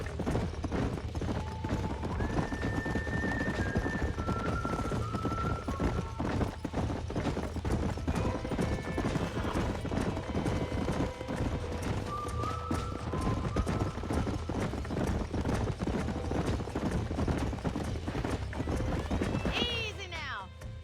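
Horses gallop with continuous hoofbeats in the Red Dead Redemption ranch scene, a horse whinnying now and then over a game score, while voices talk throughout.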